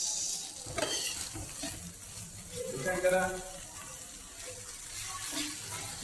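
Onions fry with tomato pulp in a pan, a steady hiss and sizzle running beneath occasional stirring scrapes, while a voice talks faintly in the background.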